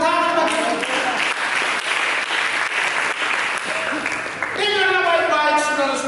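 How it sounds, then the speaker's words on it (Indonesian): A church congregation breaks into loud, sustained applause during a sermon, a dense wash of many hands clapping at close range, with music or voices running underneath at the start and again near the end. "Berikan tepuk tangan bagi kita."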